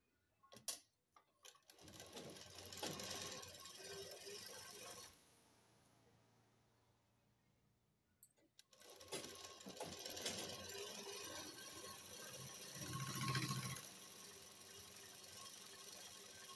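A sewing machine stitches a strip onto a ladies' trouser in two close bursts of rapid mechanical whirring, separated by a few seconds of quiet, the second run steadier and longer.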